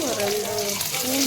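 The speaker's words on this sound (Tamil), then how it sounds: "இப்போ ஒரு 2 பூண்டு எடுத்து பொடி எடுத்துட்டு நச்சு உள்ளே சேர்த்துட்டோம்." Crushed garlic dropped into hot oil with mustard seeds and urad dal already popping in a pan, giving a steady bright sizzle and crackle throughout, with a faint tonal hum underneath.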